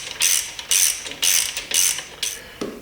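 A hand ratchet snugs engine bolts on a short block under construction before a torque sequence, giving five quick bursts of close, crisp clicking separated by brief pauses, with no talking.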